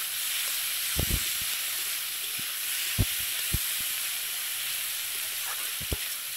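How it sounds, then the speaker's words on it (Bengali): Small prawns frying in oil in a wok, a steady close sizzling hiss with scattered sharp pops and spatula clicks in brief clusters, no voices. "এবার চিংড়িগুলো ভেজে নিতে হবে।"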